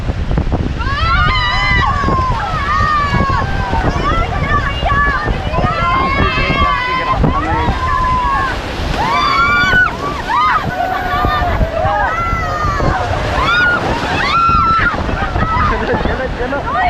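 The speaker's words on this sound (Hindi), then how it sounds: "सामने पे नेक्स्ट रैपिड आ रहा है, रैपिड का नाम है कैच फ्लो" A raft takes a whitewater rapid on the Ganges near Rishikesh. Constant rushing, splashing water runs beneath loud, excited shouting and calls from the rafting crew throughout.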